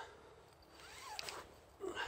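A two-way zip on a lightweight tent being opened, a quiet close zipper rasp running for about a second, followed by a short rustle of fabric.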